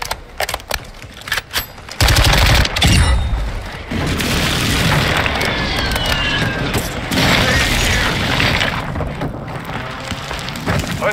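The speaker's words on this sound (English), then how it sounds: "Hostiles called in an airstrike" Airstrike explosions in Call of Duty Warzone 2 crash in heavy booming bursts after a few sharp shots, then roll into a long, loud barrage of blasts and rumbling gunfire.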